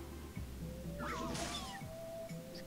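A high, cat-like cry from Mew in Pokemon Snap, a single rising and falling call heard clearly over a steady game music background.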